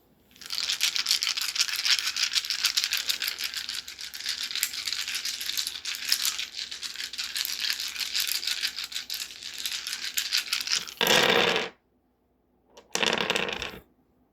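Dice rattle hard and continuously in a cup for about eleven seconds, then go quiet. Two shorter bursts of shaking follow, close and clear with no speech.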